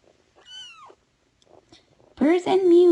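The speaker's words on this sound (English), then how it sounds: "Purrs and mews." Small, high kitten mews, a thin cry then a louder drawn-out one, close by, with soft rustling between them.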